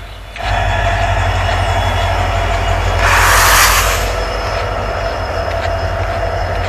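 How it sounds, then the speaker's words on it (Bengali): A New Bongaigaon–Guwahati passenger train rumbles past close by, a loud sustained roar of wheels on rails with a brief high squeal midway, no talking. "নিউ বঙ্গাইগাঁও গুয়াহাটি প্যাসেঞ্জার ট্রেনের সাথে আমার প্রায় লগ হইতে থাকে।"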